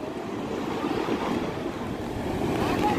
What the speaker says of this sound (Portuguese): Mar mexido, né? Com ondas pequenas.